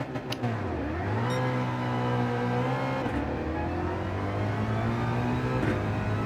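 A GR3 Ford Mustang race car in Gran Turismo 7 launches off the line on a low-grip stretch of Dragon Trail, its engine held near three-quarter revs and then rising steadily in pitch, loud and continuous with no talking.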